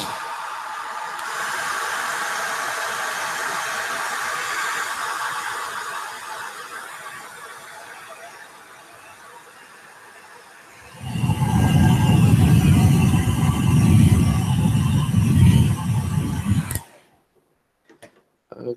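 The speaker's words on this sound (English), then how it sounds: "So people say you can't use a hairdryer." A hair dryer blows steadily over watercolor paint, its airy hiss fading and then surging louder for several seconds before cutting off abruptly into near silence.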